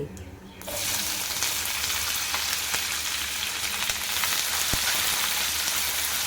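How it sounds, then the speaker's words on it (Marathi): Four medium chopped onions hit hot oil already holding whole spices such as cardamom and mace for a Pahadi chicken dish; a quiet start gives way to a loud, dense, continuous sizzle that stays close and even. "त्यानंतर आपण तेलात ॲड करणार आहोत मध्यम आकाराचे चार चिरलेले कांदे"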